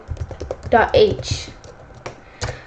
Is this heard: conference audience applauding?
no